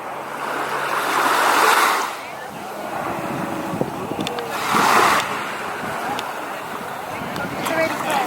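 Surf washes in on a beach at Cannes, France, with two broad surges of rushing water, steady wind noise and people talking quietly underneath.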